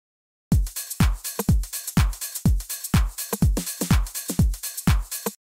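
Deep house drum loop with every drum layer playing together: steady punchy kicks under crisp hats and percussion in a tight, looping groove, with no talking.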